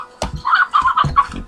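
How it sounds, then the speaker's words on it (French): Chickens cluck in a farm pen in the video game Slime Rancher, giving a loud close burst of clucks and squawks in quick uneven bursts with no talk. "Donc ici j'ai un élevage de poules. Je sais, il y a un assez gros son."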